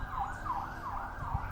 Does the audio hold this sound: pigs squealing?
no